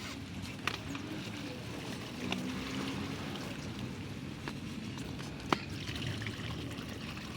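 Water trickles and drains steadily out of a container after algae removal, a soft continuous dribble at close range with a few faint clicks and knocks and no voices.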